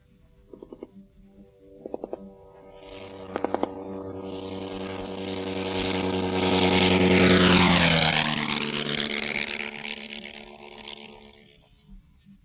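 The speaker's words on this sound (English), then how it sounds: "Listen now as a 1916 Nieuport flies by," A 1916 Nieuport fighter plane with two .30 caliber machine guns flies past: short rattling bursts of gunfire at first, then a droning propeller engine swelling loud as it passes close overhead and fading away.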